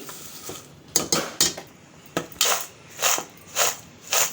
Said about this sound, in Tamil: எல்லாத்தையும் சேர்த்து நம்ம மிக்ஸ் பண்ணி விட்டுக்கலாம்